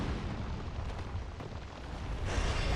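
A bomb exploding in Dark Souls 2 gives a dense, continuous rumbling blast that fills the whole span and swells slightly louder near the end, with no voices.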